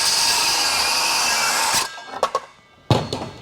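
A power saw cuts through wood with a loud, steady whining buzz for nearly two seconds, then stops, leaving a few short clunks and handling knocks.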